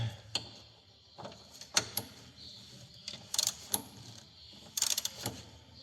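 Torque wrench tightening engine mount bolts on a Smart 451 car, short ratcheting clicks in scattered bursts, close up and fairly quiet.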